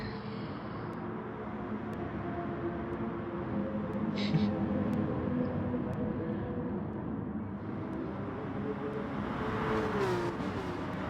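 Race cars in Gran Turismo Sport running a close, rubbing battle at Austria's Red Bull Ring, engines droning and revving steadily throughout without a break, with commentary talk mixed underneath.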